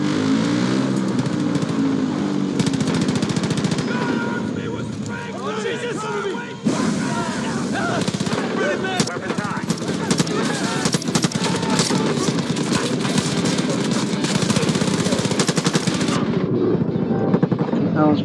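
Machine-gun fire rattles nonstop at the player in the Far Cry 5 shooter, loud and dense, with vehicle and crowd noise mixed in and someone talking over it.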